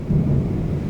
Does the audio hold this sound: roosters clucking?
no